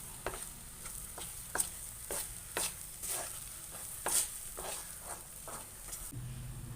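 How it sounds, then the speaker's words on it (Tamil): Thick coconut milk sweet (thiratti pal) is stirred in a pan until it sets, as a spoon scrapes in steady rhythmic strokes over a soft constant sizzle, close and fairly quiet. "நல்லா இது கட்டியாக வர வரைக்கும் நம்ம கிளற வேண்டியது தான்"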